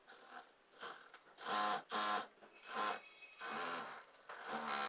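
A sewing machine stitches the seam of a skirt made from suit fabric, running in several close, loud mechanical bursts of whirring of varying length separated by short pauses.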